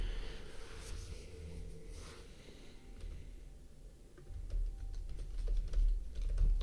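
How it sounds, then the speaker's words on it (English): Rapid clicking keystrokes on a computer keyboard, close and fairly quiet, in uneven bursts that grow denser and louder toward the end, with no talking. "Actually, why am I typing?"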